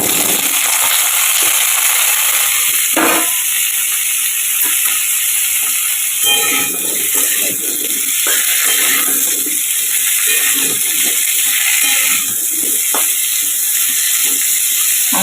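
Potatoes fry in hot mustard oil, a loud, constant broadband sizzle and hiss with occasional clatters of stirring, close up and without speech.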